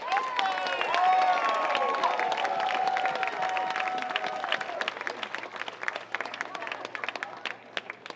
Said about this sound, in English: let's give him and the board a round of applause